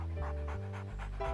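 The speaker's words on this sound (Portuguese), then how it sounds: "O Max é um cão muito especial" A guide dog pants in quick, rhythmic breaths close by, a short steady run of puffs over a background of sustained cartoon music tones.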